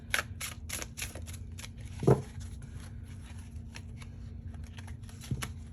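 Soft riffling and flicking of tarot cards being shuffled, a quick run of crisp flutters and taps, quiet and close, with one brief louder thump.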